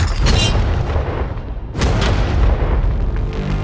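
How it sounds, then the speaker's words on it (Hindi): An army tank fires its cannon: two heavy, close booms with a roaring, dusty aftermath, loud and broadband, with no talking. "ये 5 टैंक्स पैसों पर निशाना लगाकर 20 राउंड फायर करने वाले हैं"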